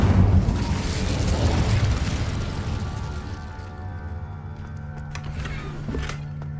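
Fiery spell blast from Incendio cast in the video game Hogwarts Legacy, a loud whooshing burst that swells at first then slowly fades into a crackling, rumbling tail.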